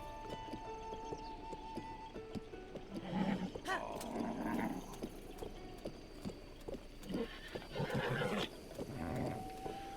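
A horse in Zelda: Breath of the Wild whinnies and snorts amid hoof clip-clops, the neighs rising in loud bursts over a quiet game soundscape, with no talk.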